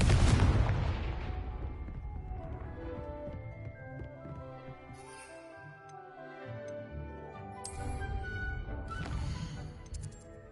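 Spell explosions in a Harry Potter video game: a loud blast opens, followed by a decaying rumble and a few sharper later bursts, with game music and effects tones in the background.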